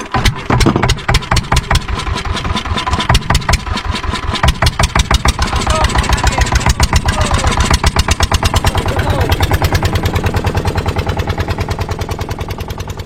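A boat's outboard-style engine starts with a few sputters, then settles into a loud, steady rhythmic chugging running close by, near a remote island in the Andamans.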